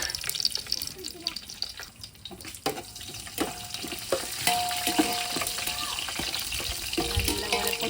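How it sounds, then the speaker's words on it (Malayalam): Rice and spices are stirred in a pot, giving scraping and clinking with a steady sizzle and watery bubbling at close range, with a voice speaking intermittently. "ഇളക്കി വെക്കാം കേട്ടോ"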